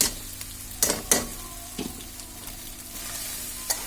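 Macaroni and noodles are tipped into hot oil and spices on a high flame, making a bright sizzle and a few sharp stirring scrapes and clanks in the pan, close up, with no talking.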